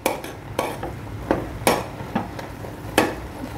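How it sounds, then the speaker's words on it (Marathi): The back of a spatula stirs shavige (vermicelli) in a pan, making a series of about seven distinct scraping strokes at an uneven rhythm, close and fairly loud with no talk. "आणि हे आपण एखाद्या उलटण्याच्या मागच्या भागाने ढवळायचं असतं, म्हणजे ते चांगलं व्यवस्थित मिक्स होतं"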